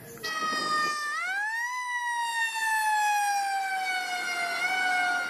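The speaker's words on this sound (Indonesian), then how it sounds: "ternyata mobil pemadam kebakaran" A red toy fire truck sounds its electronic siren, a loud close wailing tone that sweeps up and then slowly falls, continuous for several seconds.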